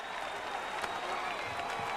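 Basketball arena crowd at a Duke versus Georgia Tech ACC Tournament quarterfinal applauding, a steady wash of clapping and cheering that holds at a constant level throughout.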